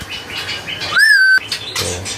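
A murai bird, a male bred from wild parent stock, sings at a Jelambar bird kiosk: a bright, loud whistled note that rises and holds, between surrounding chirps and tweets, with background chatter around it.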